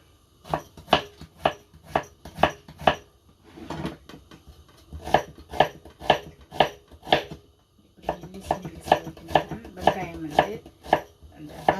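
Knife chopping onions on a board for chicken curry, rapid steady bursts of close, crisp cuts in several runs with brief pauses between, no talking.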